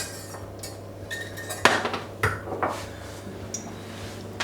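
Chocolate sauce scraped from a pan into a cup: scattered metallic clinks and knocks of a utensil against cookware, a few louder taps standing out over quiet kitchen background.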